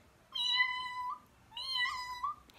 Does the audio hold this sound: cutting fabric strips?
no